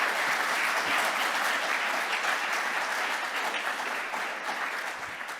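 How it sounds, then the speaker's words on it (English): Sustained applause from a conference audience after a talk on Plasma Mobile, loud and steady throughout, easing slightly toward the end. "applause, please, again for Bhushan and Devin"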